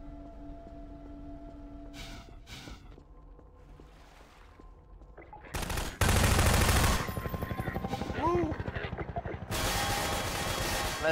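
A powerful gun fires in Half-Life 2, first as a few scattered shots over quieter game sounds, then as loud rapid bursts of automatic fire packed close together, with a voice talking between them.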